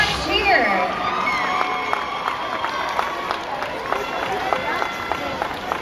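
A crowd at a cheerleading competition in Anaheim cheers for a cheer team, with high whoops and scattered claps beneath an announcer's amplified voice, loudest at the start and then settling into a lively background.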